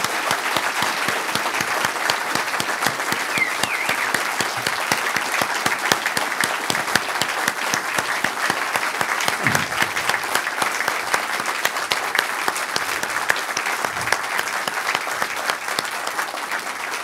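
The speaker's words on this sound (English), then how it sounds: "Let's have another big round of applause." Sustained audience applause fills the room at the close of a public conversation event, a dense, steady wash of clapping from a large crowd lasting throughout with no speech over it.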